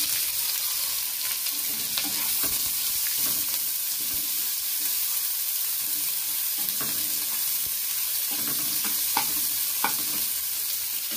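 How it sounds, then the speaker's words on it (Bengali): Chopped onion frying in a pan for a stuffed pointed gourd dish, a steady moderate sizzle with occasional stirring clicks and scrapes throughout, no voices. "এখন দিয়ে দিচ্ছি পেঁয়াজ কুচি,"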